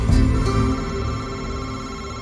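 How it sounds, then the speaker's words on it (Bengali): A phone ringing as a sound effect in a Bengali audio story, a steady electronic ringtone with a sharp onset, loud and close, fading slightly over about two seconds with no talk. "উত্তেজনা চরম মুহূর্তেই তাল কাটল বিশ্বনাথদার ফোনটা এসে।"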